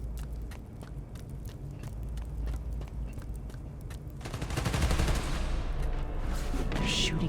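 Rapid gunfire in the Spider-Man: Miles Morales video game, a string of sharp cracks over a steady low rumble that swells into a dense, louder barrage in the second half.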